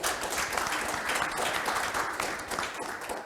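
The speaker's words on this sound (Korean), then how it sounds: "진심으로 감사의 박수를 다시 한번 드리겠습니다" Audience applause at the close of the 75th Daedeok Innopolis Forum, a lecture and panel discussion, with a fairly soft, even patter of many hands clapping steadily throughout.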